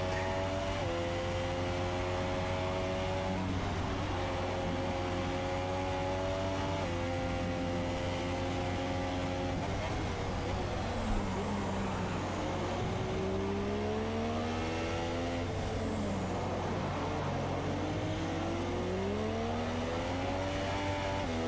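Formula 1 race car engines scream through a racing video game, with several high-pitched engines rising and falling through gear changes over about twenty seconds, loud and continuous with no talk.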